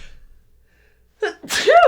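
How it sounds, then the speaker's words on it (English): One person sneezes once, close and sharp, after a short quick inhale, with near silence before it. "I'm going to sneeze."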